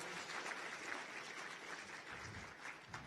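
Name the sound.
audience applause for the Masters of Ceremonies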